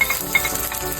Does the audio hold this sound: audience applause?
no